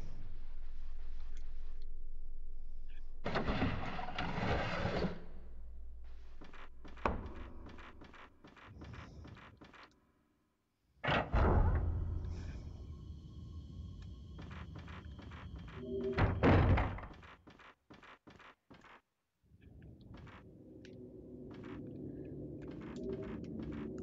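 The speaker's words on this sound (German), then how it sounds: "Im Nebenraum wird hörbar eine Tür geöffnet." Muffled thunks and thuds of a door opening in a neighbouring room in the Wii horror game Project Zero 2, scattered bumps and knocks over a low ambient hum with a few silent gaps.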